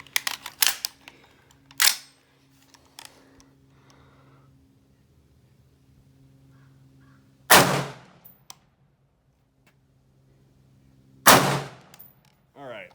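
Three loud, sharp XM16E1 rifle shots crack out at a range, each standing alone with long quiet gaps between, followed by faint metallic pings from the struck targets.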